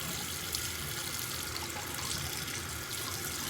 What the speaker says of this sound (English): I'm gonna go through with warm water, maybe a little cooler, and try to get out the excess